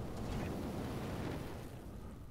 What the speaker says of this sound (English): Gonna leave the plasma cannon off and fire the rest.